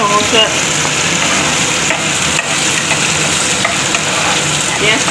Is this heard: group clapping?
no